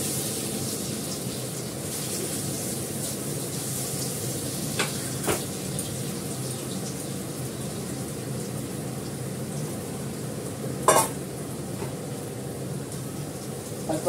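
Dhoka lentil cakes frying in plenty of oil, a steady close sizzle and crackle running throughout with a few brief sharper pops and spatters.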